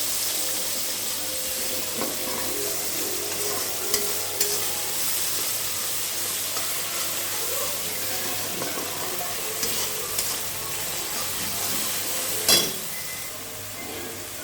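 Pomfret fish masala stirred and frying in a pan, a steady soft sizzle with gentle scraping of the spoon running throughout, plus one sharper knock near the end.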